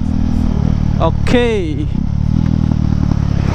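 A KTM Duke BS6 motorcycle fitted with a BS4 exhaust runs close and loud with a steady, throbbing engine drone. Someone briefly speaks over it partway through.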